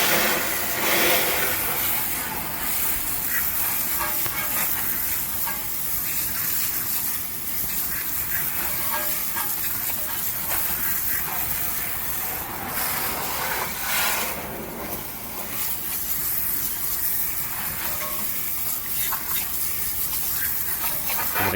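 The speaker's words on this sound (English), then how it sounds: "Give it a good rinse." Water sprays hard onto a car wheel during a rinse, a loud continuous gushing hiss lasting throughout with slight surges and no talk.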